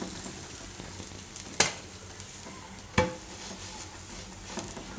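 Bread fries gently in ghee in a pan over low heat, a steady close sizzle with a few sharp scrapes and taps of a utensil against the pan.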